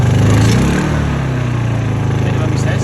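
A Honda EU2000i inverter generator running at minimum load, its small engine humming loud and close with a steady, slightly pulsing drone after a brief dip in pitch early on.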